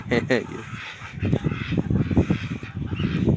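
Honking duck calls sound up close alongside a person talking, with a few louder quacks at the start.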